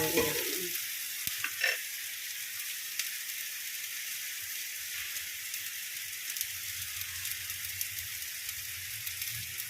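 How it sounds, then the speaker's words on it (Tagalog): Onion and garlic sauté in a pan with very little oil, giving a steady, bright sizzle that lasts throughout, with a few stirring clicks near the start. "Basta maigisa lang natin yung ating sibuyas at bawang."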